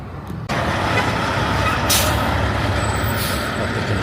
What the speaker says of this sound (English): Got the construction truck pulling up here.